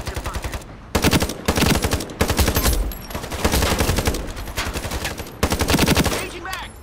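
Rapid bursts of automatic gunfire from the Ironsight video game, loud and close, arriving in repeated fast volleys separated by brief pauses.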